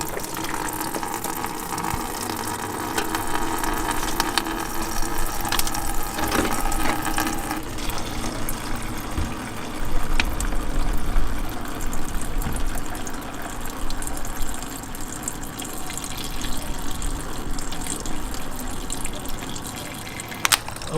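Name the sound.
water flushing through Chevy C/K1500 cooling system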